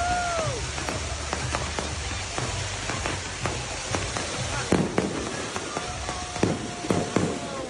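Fireworks crackle and pop in rapid irregular bursts at an outdoor event, a steady dense stream of sharp bangs and sizzles with a few whistling rockets, loud and continuous throughout.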